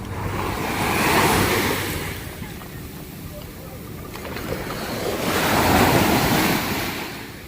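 Ocean surf rolls in two broad swells at Shivrajpur Beach near Dwarka, rising and falling over a windy, continuous wash of water.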